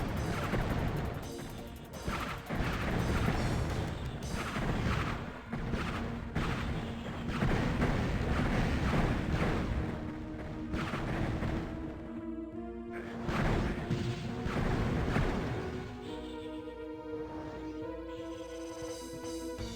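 Crossbow fired again and again at enemies in the dark-fantasy shooter Heretic, with the Tome of Power active: loud rapid impacts and blasts overlapping throughout, no speech.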